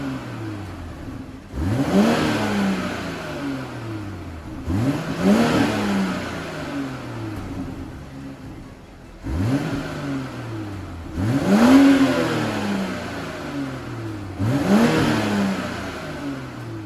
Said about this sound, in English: 2020 BMW X5. Now, take a listen to that engine.